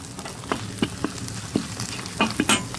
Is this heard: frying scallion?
yes